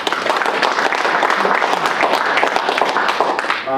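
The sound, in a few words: audience applause for committee members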